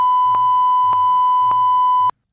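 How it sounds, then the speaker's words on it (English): A loud, steady censor bleep tone runs without a break and cuts off abruptly, with a faint rhythmic clicking underneath and no speech. "Beep that out."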